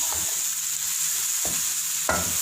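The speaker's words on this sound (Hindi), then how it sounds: "हम इसको अच्छे से भून लेंगे।" Lentils (daal) tossed with lemon juice and chaat masala are roasted in a pan, a steady sizzle with a few scraping stirs of the spoon, close and continuous with no talk.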